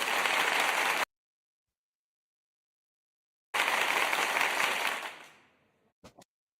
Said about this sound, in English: then they have an applause